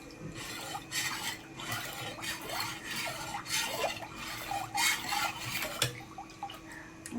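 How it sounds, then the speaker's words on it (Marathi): Onion, spices and salt being stirred into water for pani puri, giving a steady run of wet swishing and scraping strokes in a rough rhythm at close range, with no voices. "इथे एवढं पाणी घेतलेलं आहे मी कांद्याला छान ढवळून घ्यायचं"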